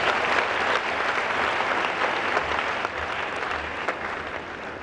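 An audience at a peace mission launch ceremony keeps up loud, sustained applause, a thick even roar of many hands that eases slightly toward the end, with no voices over it.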